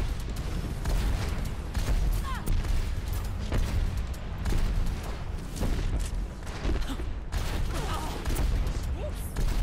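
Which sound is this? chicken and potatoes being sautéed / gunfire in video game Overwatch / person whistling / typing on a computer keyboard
gunfire in video game Overwatch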